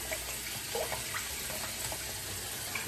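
Running water splashes steadily as a shaving brush is rinsed under a tap, a continuous close hiss with small shifting splashes throughout.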